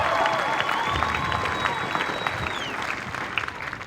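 An audience applauds at an Air Force basic training graduation ceremony. Dense, sustained clapping fills a large outdoor space, with a thin whistle-like tone above it and the crowd noise easing off slightly toward the end.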